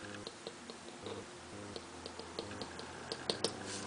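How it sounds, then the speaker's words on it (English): Fingertips tapping on the lids of bottles, quiet and close, a string of small irregular clicks and ticks spaced through a few seconds with no voices. "I just go by and tap the lids of bottles."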